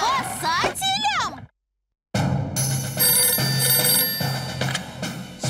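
A cartoon telephone rings in Ben and Holly's Little Kingdom, loud repeated bell trills after a brief silence, with a character's voice just before.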